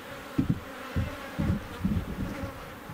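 Honey bees in a full, large colony inside a Langstroth hive, droning in a low, steady buzz with several louder swells as the hive is worked, close and without talk.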